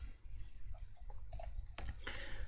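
A computer mouse clicks on a Linux desktop: a few faint, sharp clicks, some in quick pairs, over a low background hum.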